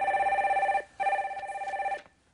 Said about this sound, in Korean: 빨리 전화 연결해 주세요.